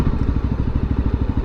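A VOGE 300 Rally motorcycle engine while riding a little above 50 km/h on a woodland road, a close, steady rapid pulsing throb with no talk.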